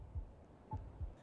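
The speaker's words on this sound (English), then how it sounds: "See, once the heartbeat slows down," In a video game, a player's heartbeat thumps faintly while health recharges, three low, soft beats spaced unevenly over a quiet hum, with no talk.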